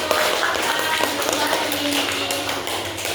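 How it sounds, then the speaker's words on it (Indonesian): Pupils clapping together in a primary school classroom during a microteaching lesson, a short burst of fairly loud collective applause mixed with room chatter and background voices. "Tepuk tangan untuk kelompok 1"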